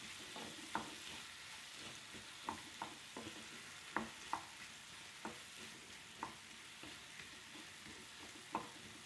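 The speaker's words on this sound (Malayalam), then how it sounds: "നല്ല പാകമായ പഴം അതിലേക്ക് ഇട്ടിട്ട് നമ്മളൊന്ന് വഴറ്റി എടുക്കുക." Ripe banana sautéed in a pan over a low flame, with a soft steady sizzle and a scatter of sharp scraping clicks from stirring at irregular moments, fairly quiet throughout.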